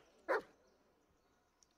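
A dog in a video game gives a single short bark, followed by quiet with a faint click or two.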